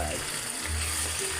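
Food frying in a pan while a ladle stirs it, a continuous close sizzle with soft scraping and faint background voices.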